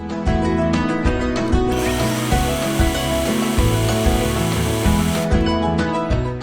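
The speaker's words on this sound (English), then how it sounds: "Pull the trigger on the handle of the telescopic pole to run the chainsaw." A Forest Master 20V 6-inch cordless mini chainsaw runs on a telescopic pole, giving a steady, loud electric motor whine with a harsh, broad rushing burst in the middle before the motor tone settles again.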